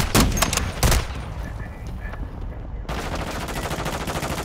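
Automatic gunfire in Call of Duty: Modern Warfare II, with loud bursts of shots near the start, then a quieter stretch, then dense rapid fire crackling steadily to the end.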